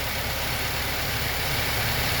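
A new truck's engine idling as it warms up after an oil filter change, a steady, close, broadband rumble with no clear shift in pitch and no talking.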